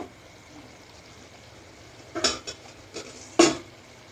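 A lid comes off a cooking pan of chicken bharta in a home kitchen with a couple of sharp metallic clinks and scrapes over a faint low simmer.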